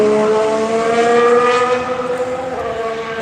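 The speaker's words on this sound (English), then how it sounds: "There's the Ferrari." A Ferrari Formula 1 car at a Barcelona test drives on the track with a loud, high-pitched engine whine held steady, then fading slightly as it moves away.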